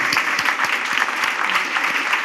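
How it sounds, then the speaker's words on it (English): A conference audience gives a warm, steady round of applause for product manager Rose Yao, dense clapping that holds evenly throughout with no break. "Big round of applause,"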